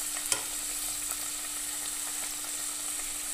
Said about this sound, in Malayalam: നമുക്ക് 2 മിനിറ്റ് ഇതുപോലെ അങ്ങ് ഫ്രൈ ചെയ്തെടുക്കാം